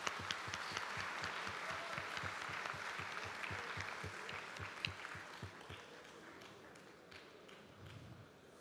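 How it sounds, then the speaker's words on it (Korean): A church general assembly applauds as a choir of educators' wives enters, a broad wash of clapping with distinct individual claps up front that gradually thins and softens toward the end. "나오실 때 우리 뜨거운 박수로 맞이해 주시면 감사하겠습니다"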